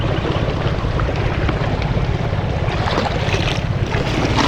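Water from an irrigation channel rushes in a loud, continuous, turbulent wash close to the microphone, steady throughout with no voices.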